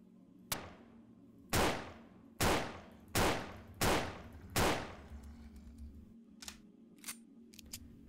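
Gunfire from a handgun in the old-school horror game Devil's Valley: one shot, then five loud, evenly spaced blasts roughly a second apart, trailing into faint clicks and small mechanical sounds.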